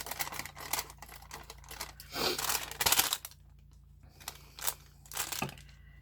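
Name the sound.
trimming paper around a window flap outline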